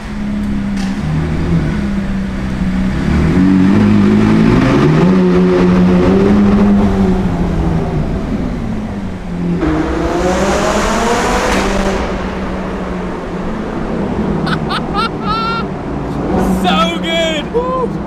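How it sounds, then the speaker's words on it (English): A supercar engine climbs toward the redline in a loud, close rising roar, drops back, then revs again with sharp higher-pitched blips near the end, while people talk and cheer over it. "It's actually my first time redlining this car."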